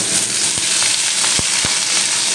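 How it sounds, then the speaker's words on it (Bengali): Thick-cut potatoes drop into hot oil with a loud, steady close sizzle, a few sharp crackles and pops rising out of the hiss. "এবার আমি আলুগুলো ভাজার জন্য তেলের মধ্যে দিয়ে দেবো"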